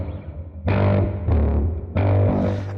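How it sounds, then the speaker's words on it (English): Distorted metal lead guitar with a little reverb plays three loud sustained chords, each ringing briefly before the next, with no voices. "And then after that, it's a reverb,"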